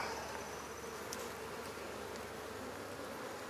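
Calm honeybees buzzing in a steady, dense drone close by as they are moved from nucs into hive boxes, with no talking.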